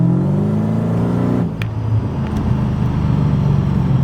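A tuned Mercedes CLK55 AMG engine drones loud and close. Its pitch drops abruptly midway, as if the throttle is released, then settles into a steady, lower rumble.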